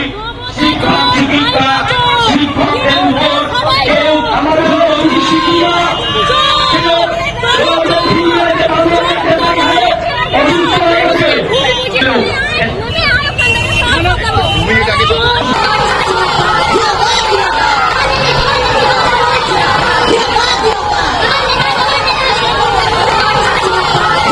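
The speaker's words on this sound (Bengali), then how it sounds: "সেখানে চোর চোর স্লোগান ওঠে এবং পাল্টা চোর স্লোগান ওঠে" A loud, dense crowd at a tense political rally keeps up continuous shouting and chanting 'chor chor' over a rising roar of many voices.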